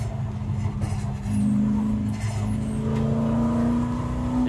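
A Ford GT40 race car taking a corner at about 200 km/h, its engine holding a loud sustained drone that rises steadily in pitch as it pulls through the bend, heard from close by.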